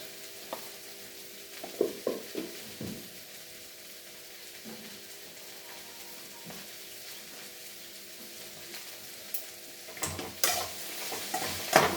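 Masala with turmeric powder fries quietly in a pan, a low steady sizzle punctuated by scattered scraping stirs and clinks, busier near the start and again toward the end.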